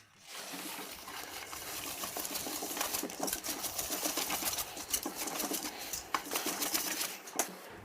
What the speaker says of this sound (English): And now we add the semolina and beat that in as well.